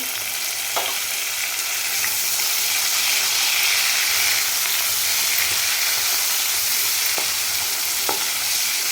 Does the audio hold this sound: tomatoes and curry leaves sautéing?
yes